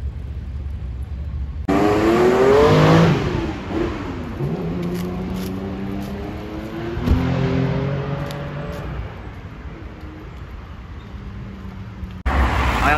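A Bugatti Veyron Super Sport in full blue carbon drives on a Paris street, its engine rising in a strong rev that sweeps up in pitch and then fades as the car moves off, with city traffic noise behind it.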